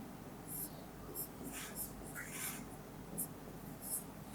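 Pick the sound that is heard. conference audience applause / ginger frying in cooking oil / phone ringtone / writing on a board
writing on a board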